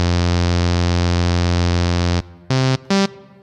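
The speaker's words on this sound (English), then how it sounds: "Got a reverb here as well." AudioKit Synth One J6 synth app playing a sustained buzzy, harmonically rich note with reverb, then two short stabs of the same tone, each trailing a brief reverb tail, loud and up close.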